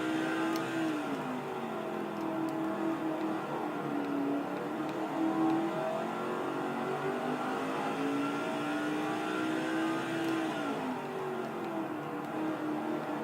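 A race truck engine drones continuously around Martinsville Speedway in NASCAR 05's Craftsman Truck Series, its pitch rising and falling as it accelerates and lifts through the corners, loud and close with no talk over it.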